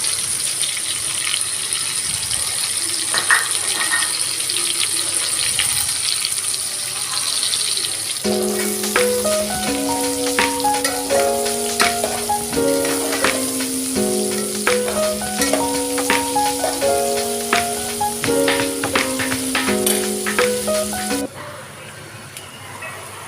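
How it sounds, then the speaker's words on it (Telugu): Mushrooms frying with browned onion in a pan for a mushroom biryani, a continuous crackling sizzle under a melodic music track, with someone speaking at times. "మష్రూమ్స్ ఒక టూ త్రీ మినిట్స్ ఫ్రై చేసుకోవాలి"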